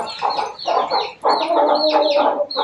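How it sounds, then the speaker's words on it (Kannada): Country chickens at a village fair cluck loudly and close in repeated bursts, with short pauses between the calls and no talk. "ನಮ್ಮ ಅಪ್ಪ ನಾಟಿ ಕೋಳಿ ಸಾಕಾಯ್ತು"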